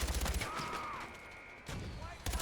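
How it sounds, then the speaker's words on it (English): Mortar fire and gunfire in a video game set at an island air base, dense rattling bursts and booms over a steady noisy battle background, with a whistling tone and a speaking voice faintly mixed in. "that is the sound of a mortar"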